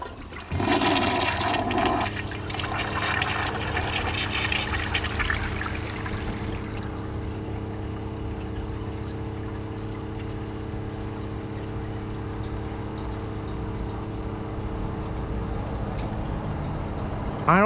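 A 1986 Kohler Wellworth toilet flushes with a loud rushing surge, then the tank refills with a long, steady hiss and trickle that settles into a constant drone, close and alone without talk.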